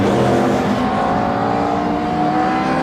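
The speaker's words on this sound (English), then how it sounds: "there's your race leader just coming into shot at the minute in that Ford Falcon" A Ford Falcon touring car races at Brands Hatch in a classic touring car event, its engine roaring loud and steady as the car drives past close by.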